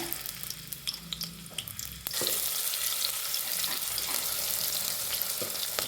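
Onion dropped into hot oil in a pan on a gas stove: a few small ticks and clicks first, then a sudden loud, dense sizzle that holds steady and close until the end.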